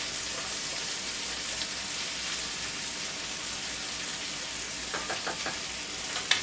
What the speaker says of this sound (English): So I'll give it a little stir here.